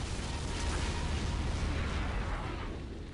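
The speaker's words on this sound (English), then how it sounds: "All these explosions are just going off all around you." Explosions in an XCOM video game battle, a dense continuous rumbling blast texture with deep booms layered together, loud and sustained before easing slightly at the end, no talk.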